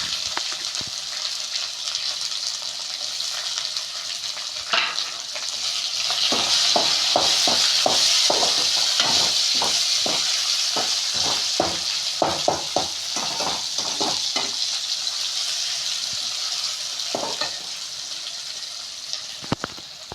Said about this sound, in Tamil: இப்போ நம்ம கட் பண்ணி வச்சுருந்தா தக்காளியை போட்டுட்டு நல்லா வதக்கிக்கலாம்.